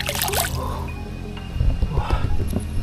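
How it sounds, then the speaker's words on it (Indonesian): Clear spring-fed river water at Gunung Kawi drips and trickles close by, with wet splashes and a gurgle that grows busier after the first second. "Jadi ini adalah sungainya. Ini sungai sangat jernih sekali"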